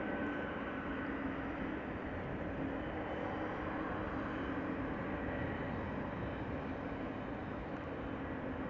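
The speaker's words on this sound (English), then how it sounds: "Lufty A330 to Houston." A Lufthansa Airbus A330 jet departs Amsterdam Schiphol Airport, its engines making a steady, faint, broad roar that holds at an even level throughout, with no voices.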